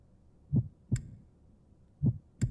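A heartbeat sound effect from the Fire Emblem Three Houses video game thumps softly in two double-beat pairs, lub-dub, lub-dub, over near silence.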